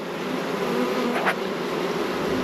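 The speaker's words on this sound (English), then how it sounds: "Look at these bees." Honey bees in a nuc hive hum in a continuous close buzz, with one bee's louder whine briefly rising and passing near the middle.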